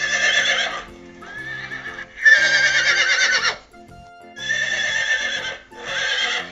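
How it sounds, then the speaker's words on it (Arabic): A farm horse neighs repeatedly, several long quavering whinnies separated by short pauses, loud and up close over a steady rhythmic background of clip-clop and tones, with no speech. "حصان"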